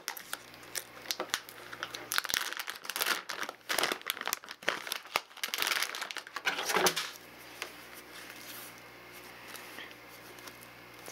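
Crinkling and rustling of a resealable vacuum-sealed plastic bag holding 3D printer filament, close and fairly loud in irregular bursts for about seven seconds, then fading to quiet handling.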